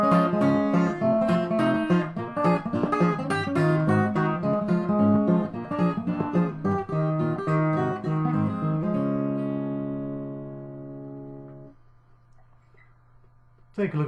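Fingerpicked ragtime blues on acoustic guitar with syncopated thumb rolls, a lively, bouncing pattern of bright plucked notes that slows near the end into a few ringing held notes and a final strum.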